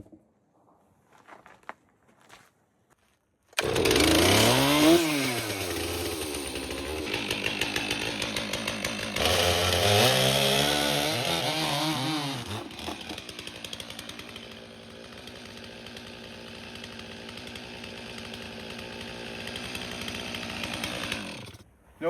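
A chainsaw roars at full throttle as it rips a large burl log in half, loud and close, the engine pitch bending as the chain bites and eases, running continuously for nearly twenty seconds.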